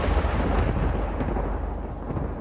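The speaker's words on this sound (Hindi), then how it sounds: "इतनी देर में जोर से बिजली कड़की" Loud thunder clap during a rainstorm, a dense sustained rumble that fills the whole clip with no voices over it.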